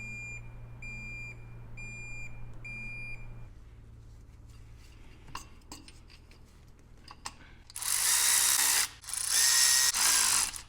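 A hand wrench ratchets bolts tight during restoration work on a BMW E39 Touring, with clicking pawl strokes and metallic taps up close, followed by loud hissing bursts of spray.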